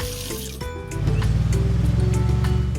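Water pours steadily into a small toy-scale brick pond, a continuous rushing wash that swells after a brief start and holds at a loud, even level.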